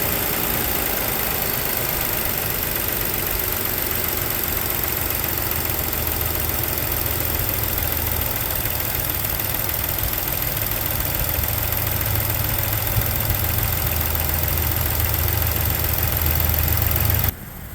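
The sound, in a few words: 2016 Ford Explorer Police Interceptor Utility engine idling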